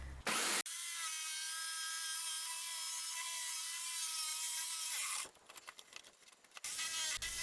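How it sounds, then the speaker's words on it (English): A jigsaw saws through a wooden bulkhead panel for a catamaran build, a loud steady buzzing whine for several seconds before stopping, followed by rough scraping and handling noises. "Now I have a starting point for the jigsaw."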